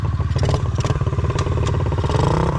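A Trailmaster TM33 Xpro dirt bike climbing a dry hill in first gear, its small engine pulsing loud and close with a rapid throbbing rhythm, rising slightly as it pulls, with some clatter from the terrain.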